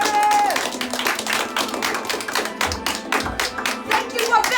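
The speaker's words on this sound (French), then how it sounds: "on applaudit très fort Sienna." A theater audience applauds loudly for a performer at a children's summer magic-camp show, dense steady clapping with cheers running the whole time, a few louder thumps mixed in and a tone fading early.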